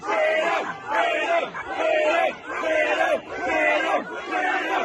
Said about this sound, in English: A number of these protesters chanting freedom.